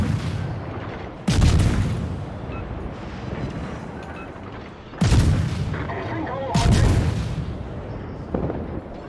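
Naval guns boom in World of Warships, with heavy cannon blasts and shell impacts arriving in several loud bursts that decay into rumbling battle noise between salvos.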